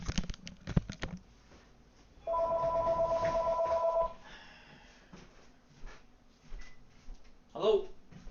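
A telephone rings once in a steady trilling burst of about two seconds, set among quiet room noise and scattered knocks and rustles, with a voice briefly heard afterward.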